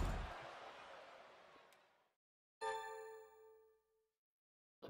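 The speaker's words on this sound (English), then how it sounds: "Ring the bell." A wrestling ring bell from WWE 2K23 clangs once, loud and close, and its bright metallic tone rings out for about a second and a half. It follows a fading burst of crowd noise, and a short thump comes at the end.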